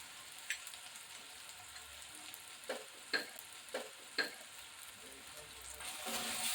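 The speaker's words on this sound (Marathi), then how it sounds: "आपण ह्याच्यामध्ये मीठ टाकूया जेणेकरून कांदा लवकर भाजला जाईल" Onion and tomato fry with salt in a pan, a faint steady sizzle broken by a handful of sharp stirring scrapes, growing slightly louder toward the end.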